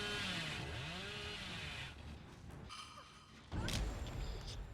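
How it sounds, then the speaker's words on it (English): A chainsaw revs and whines in Dead by Daylight during a competitive match, its engine sweeping up and down before cutting out, followed by thuds and a louder burst of game noise. "Hein using Dead Hard to get out of the way of the chainsaw there."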